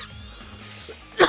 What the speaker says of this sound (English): I don't know why I'm coughing so bad.